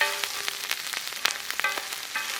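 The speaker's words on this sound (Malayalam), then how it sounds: "കുറച്ച് ഇഞ്ചി വെളുത്തുള്ളി പേസ്റ്റ് ചതച്ചത് ഒരു പത്ത് പച്ചമുളക് രണ്ടായിട്ട് കീറിയതാ ഒന്ന് ഇളക്കി കൊടുക്കണം ആ എണ്ണയ്ക്കകത്ത് മുരിയണം" Ginger-garlic paste and split green chillies sizzle in hot oil for a pearl spot fish pollichathu masala. The frying crackles and spits steadily, with scattered sharp pops and stirring clicks, and no voices.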